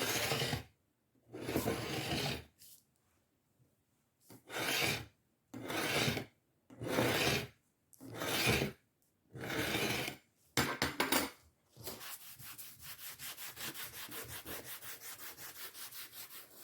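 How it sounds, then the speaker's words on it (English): A spatula scrapes across a Cricut cutting mat in a series of about seven rough, rasping strokes with short pauses between, close and clear, followed by a faster, lighter continuous scrubbing. "I'll just go along, and this will help loosen up any of the little fuzz or debris that's on there"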